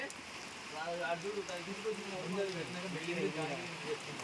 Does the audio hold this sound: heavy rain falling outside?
yes